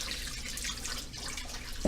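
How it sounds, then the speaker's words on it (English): Boiling water runs into a kitchen sink in a steady close splash and trickle that carries on throughout, with a brief clunk near the end. "what great way to save energy is to put that boiling water in there"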